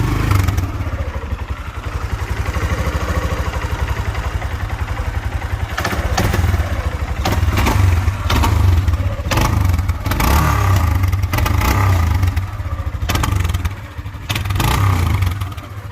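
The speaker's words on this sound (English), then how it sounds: "Starts right up. Sounds good." A 2007 Kawasaki Bayou 250 ATV engine idles after starting with a steady, throbbing low rumble and rattles nearby, with occasional clatters and scrapes over it.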